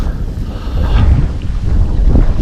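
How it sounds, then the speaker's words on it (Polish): Heavy wind buffets the microphone with loud, low rumbling gusts at a feeder fishing competition, a constant roar with no other sounds standing out. "wieje jak cholera"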